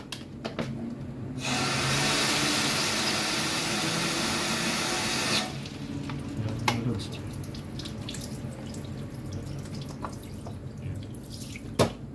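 Water gushes from a tap in a strong continuous stream for about four seconds, then stops, leaving faint drips and handling clatter afterward.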